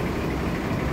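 A brand-new Caterpillar Cat 140K motor grader engine runs at a steady, heavy idle, a dense low rumble heard close up with no breaks and no voices.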